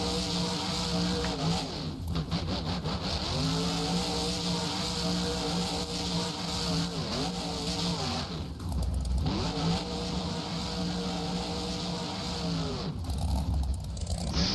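A monster truck doing donuts on a mud course at a Houston event roars loudly, its engine revving in repeated rising and falling surges with brief dips, close and continuous.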